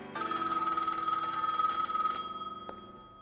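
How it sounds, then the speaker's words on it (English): An old-style telephone bell rings in one sustained, close, loud burst, then a single short ring follows after a pause. "The phone rings"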